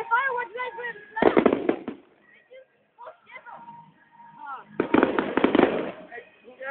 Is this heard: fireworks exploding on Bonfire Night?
yes